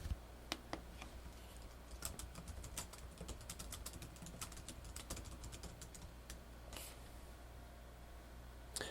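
Rapid, uneven typing on a computer keyboard, soft clicking keystrokes pattering continuously up close with no voices.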